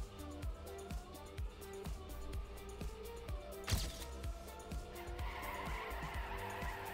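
Race car engine revving and tires skidding through a drift in the Trackmania racing game, steady and continuous with a sharp burst midway, under a commentator's voice.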